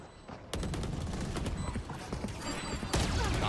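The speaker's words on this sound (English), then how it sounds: "The barrage of bullets not connecting." Rapid gunfire in a Valorant match at the Champions tournament, a dense barrage of close shots with sharp cracks and mechanical clatter running almost continuously, with no voices.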